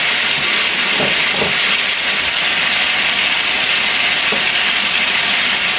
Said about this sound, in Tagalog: Medyo maingay po ang aking kalan.